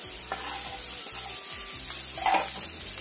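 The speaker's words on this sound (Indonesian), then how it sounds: "Kita tumis lagi." Garlic and chili stir-frying in a hot pan give a steady, close sizzle, broken by repeated scraping strokes of the stirring utensil. No one speaks.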